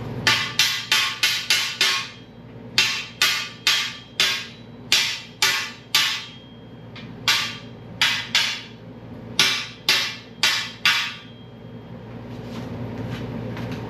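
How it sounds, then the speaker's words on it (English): Sharp metallic hammer strikes knocking welding slag off metal, in rapid bursts of three to five blows, repeated with brief pauses, loud and close over a steady mechanical hum. "I can knock a lot of it off with a hammer"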